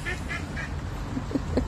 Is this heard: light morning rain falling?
no